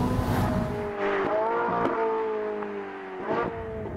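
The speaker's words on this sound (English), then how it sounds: "It's also tuned to produce a much sharper and better engine noise." A Ferrari 458 Italia V8 engine revs hard and climbs through sharp, rising pitches, dropping between bursts and surging again near the end, loud and close.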